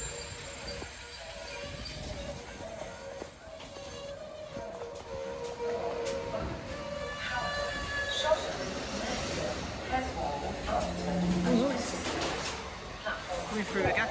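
A Transport for Wales train rolls slowly through a station platform, with steady rumble, faint wheel squeal and tonal whine, while voices speak nearby over the continuous running noise.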